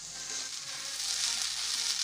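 Semolina for suji halwa is stirred and fried dry in a pan, giving a steady, soft sizzling hiss with faint scraping throughout, no voices.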